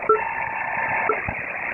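Call tone over an HF aircraft radio channel, short tone blips riding on a steady band-limited radio hiss, with faint static crackle and no voices.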